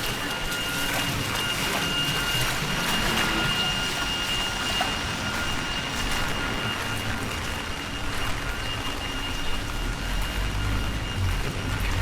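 Steady heavy rain pours onto a flooded street in Golden City, a dense continuous hiss and patter of water, loud and unbroken throughout with no voices.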